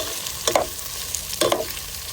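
Two short scraping stirs of food in a hot pan, with a soft sizzle underneath and no talking.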